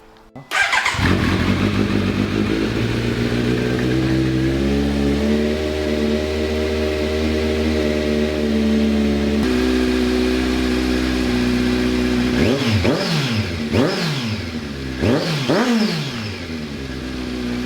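A Kawasaki Z900 motorcycle with Akrapovic carbon slip-on exhaust, DB killer fitted and catalytic converter deleted, idles with a deep, steady burble, then blips the throttle in several sharp revs near the end, loud and close.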